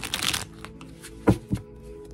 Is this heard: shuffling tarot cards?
yes